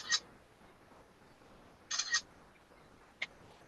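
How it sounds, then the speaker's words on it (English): A loud camera shutter in a studio clicks three times, with single sharp snaps at the start and near the end and a quick double burst in the middle, over a quiet room. "People are saying your shutter noise is really loud in the chat."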